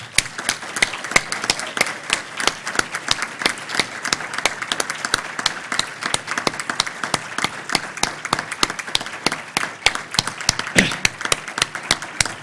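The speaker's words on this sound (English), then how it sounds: "I'd like to give a huge round of applause for Larry Taylor." Steady, dense applause from an audience at a NASA exploration science forum, many hands clapping continuously and fairly close with no letup throughout.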